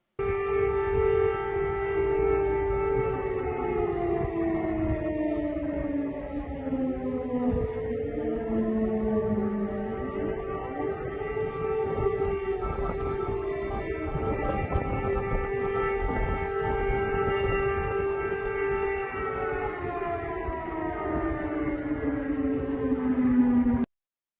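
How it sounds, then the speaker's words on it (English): Several air raid sirens wailing over a city drone together for the whole stretch, their pitches slowly rising and falling, loud and continuous with no talking. "Here is the 24-second clip we got of the air raid sirens sounding over the city."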